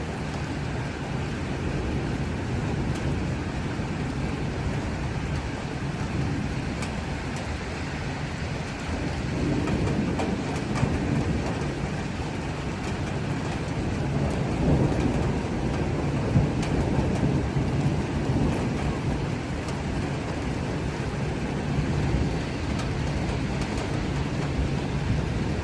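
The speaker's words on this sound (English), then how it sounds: "It's raining." Steady rain pours over Tehran at night, a dense hiss with low rumbling underneath that swells around the middle, continuous and fairly loud with no voices.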